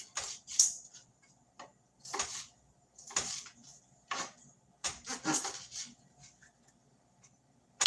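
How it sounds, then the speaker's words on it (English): A knife chops peppers on a cutting board in irregular clusters of sharp, close taps with quiet gaps between, fairly faint overall and with no voices. "I know it's probably loud with the chopping."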